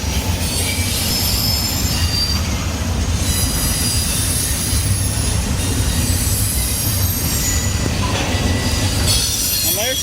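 A train rolls past on the tracks in Dallas, Texas, its wheels squealing high and constant over a steady rumble that continues throughout.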